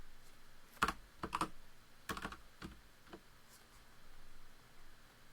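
Keys clatter on a computer keyboard while a word is entered into a blank Microsoft Word page: several quick bursts of close, crisp taps separated by pauses, with no talking.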